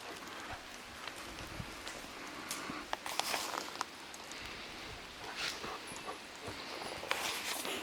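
A hunting dog whimpers in short, faint bursts while searching for a bear in wet rainforest, set against a steady hiss of rain and scattered sharp drips.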